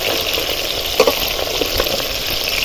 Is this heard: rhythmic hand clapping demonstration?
no